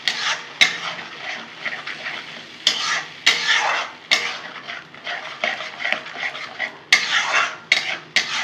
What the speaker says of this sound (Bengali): ভালো করে কষে নেব।